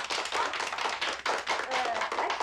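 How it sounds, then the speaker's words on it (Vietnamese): A group of factory workers clapping together in a brisk, dense burst of applause, close and lively, with some voices underneath. "Mọi người vỗ tay hoan nghênh nào"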